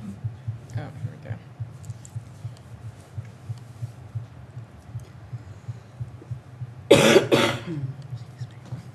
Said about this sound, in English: We're taking turns coughing.